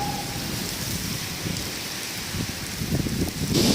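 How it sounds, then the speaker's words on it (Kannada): Heavy rain pours steadily and loudly, a dense hiss of drops drumming on surfaces that swells toward the end. "ಮಳಿ ಎಷ್ಟು ಜೋರದ ನೋಡು"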